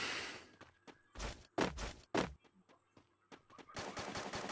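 Loud, close gunshots and short automatic bursts in the Free Fire battle royale game, coming in separate volleys with quiet gaps and a dense burst of shots at the end.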